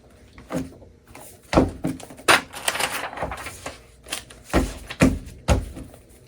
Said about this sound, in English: Next, align the edges of the paper so that they're even on all sides.